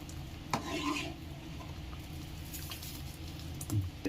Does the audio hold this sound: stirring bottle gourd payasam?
yes